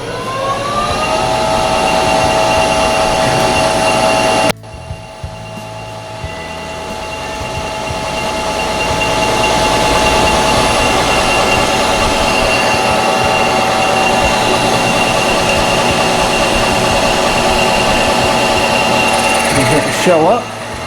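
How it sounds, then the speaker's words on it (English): A metal lathe facing and turning a piece of tubing, heard as a loud, steady machine whine and cutting noise that runs almost continuously, with a brief break near the start and a voice talking over it. "we'll face this off and then turn the OD and drill it"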